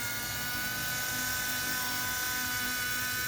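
A mini pedicure and manicure grinder runs flat out at top speed, a thin, steady high-pitched electric whine with a buzzing motor hum beneath it, continuous and close, with no talking.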